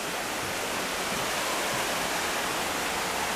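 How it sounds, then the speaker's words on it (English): Small waterfall behind an abandoned cabin, a steady broadband rush of falling water that stays even and close throughout, with no voices. "there's a little waterfall in the back"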